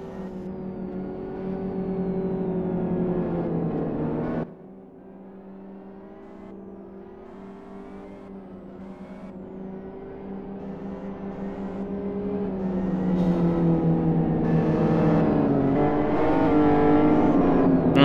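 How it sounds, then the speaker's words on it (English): In a SuperGT video game at Kyoto National Reverse, a GT500 race car engine revs high, cuts abruptly, then builds again in a rising whine as it pulls away on the formation lap, loud and alone without talk. "I'm pulling away on the formation lap."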